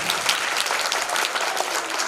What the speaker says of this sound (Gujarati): આપણી તાળીઓ ઓછી ના થવી જોઈએ.